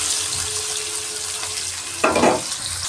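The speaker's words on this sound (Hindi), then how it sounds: "अब हम इसमें डालेंगे प्याज।" Onion hitting hot oil in a kadai while cooking kadai chicken, a steady sizzle and hiss that flares into a sharper, louder burst of frying about two thirds of the way through.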